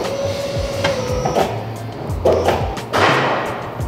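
A hydraulic cylinder on a Lil Herc 2.0 extending under remote control, a close mechanical whine with rattling and a few knocks and thuds as it moves, with no talking.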